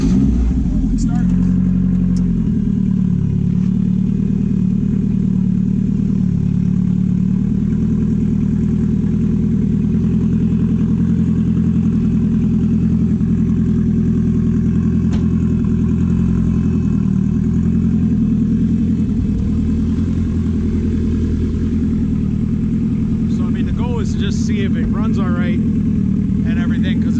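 A turbocharged Honda F20C engine in a drift truck drones loud and close at a steady pitch, with low rumbling harmonics and slight shifts in revs throughout.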